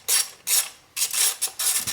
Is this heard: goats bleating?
no